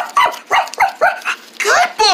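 A dog barks on command, giving a run of short, sharp barks close by with brief gaps between them, loud and clear with nothing else mixed in.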